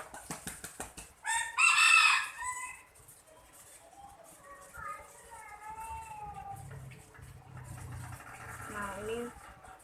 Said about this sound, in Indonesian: ini suara ayamnya kenceng banget karena di dekat aku emang ada ayam